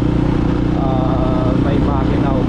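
Rusi KRY 200 motorcycle engine runs steadily on a trail ride, a loud close droning hum with no gaps, while someone talks over it.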